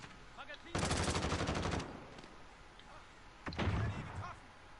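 Gunfire in Call of Duty Modern Warfare on PS4: two loud bursts of rapid automatic shots, the first about a second long, the second shorter after a pause, with softer game noise between.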